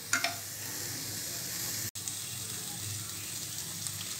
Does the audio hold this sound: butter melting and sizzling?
yes